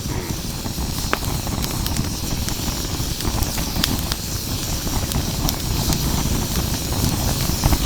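A wood campfire burns in an ANCAM fire pit, a steady, loud roaring hiss broken by scattered sharp crackles and pops.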